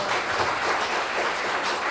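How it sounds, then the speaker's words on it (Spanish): Audience applause at a university seminar on public universities and solidarity economies, a dense, steady wash of clapping from a crowd lasting a couple of seconds. "Una vez más, palmas, por favor, para todos, para todas."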